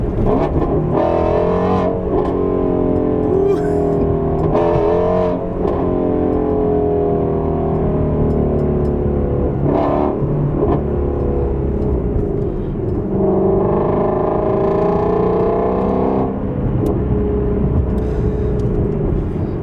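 Ford Mustang GT350 fitted with a Corsa double X-pipe resonator-delete exhaust, downshifting and revving loudly up close, with repeated throttle blips and a deep, raspy roar rising and falling throughout.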